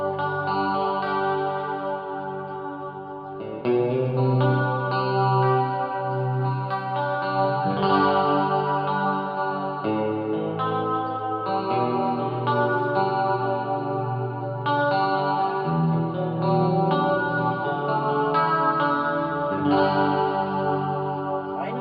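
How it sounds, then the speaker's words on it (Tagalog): Electric guitar played through an analog chorus pedal with added reverb, sustained shimmering chords and melodic lines ringing continuously at a loud, even level without talk. "subukan naman natin siyang ipare sa ating chorus. So, mag-add tayo ng konting reverb."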